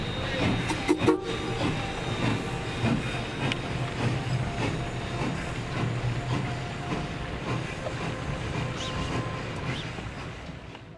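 A train rumbles across a new bridge over the Animas River on the Silverton line at night, with a continuous close roar and the rhythmic clack of wheels over rail joints, fading slightly at the end.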